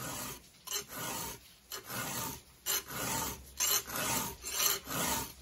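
Repeated rasping strokes of a metal file sharpening the steel teeth of a small chainsaw, back and forth in a steady rhythm with brief pauses between strokes, close up.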